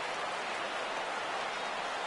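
Rain falls on a baseball field at game time, a dense, steady hiss of drops that stays even and moderately loud throughout, with no talk.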